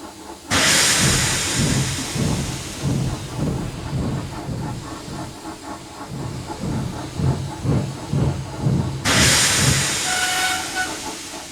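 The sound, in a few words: animated steam engine blowing steam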